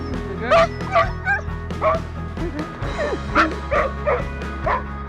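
A long-lost dog, reunited with its owner after three years apart, yelps and whimpers in excited bursts, close and loud over a low steady hum, with a brief voice in the background.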